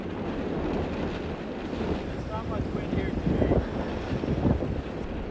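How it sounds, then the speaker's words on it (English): Strong wind of around 30 knots at a harbour roars and buffets the microphone continuously, with gusts swelling louder toward the end; a voice speaks faintly underneath. "Winds are already pushing 30 knots"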